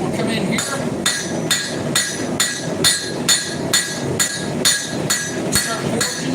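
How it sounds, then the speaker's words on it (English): A hammer forges a bevel into a knife made from a horseshoe, striking in a steady, even rhythm of about a dozen sharp ringing blows, close and loud. "Start forging that bevel in."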